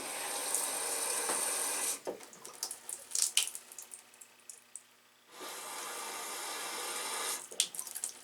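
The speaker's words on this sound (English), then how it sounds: "Okay, now I'll turn the water on." A newly replaced kitchen faucet runs in a sink, stopping briefly twice with small clanks and drips in between before the steady stream of water resumes.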